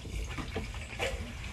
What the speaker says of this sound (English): So I'm gonna turn the water off here.